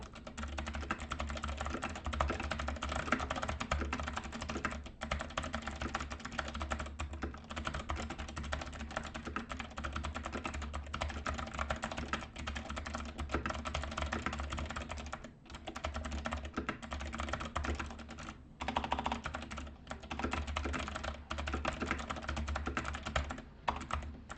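Steady, rapid typing on a computer keyboard while entering Korean text in a word processor, with close, continuous key clatter and short pauses over a low background hum, no talking.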